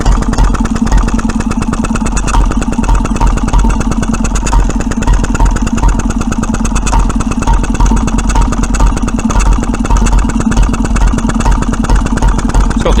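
A 1925 Petter M 1 1/2 HP vintage stationary engine with its original exhaust silencer runs steadily up close, giving a loud, rapid, even chuffing beat with a mechanical clatter that holds constant throughout.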